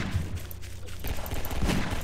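Rapid gunfire from Garry's Mod, a dense, loud burst of overlapping shots that continues through the whole moment with no pauses.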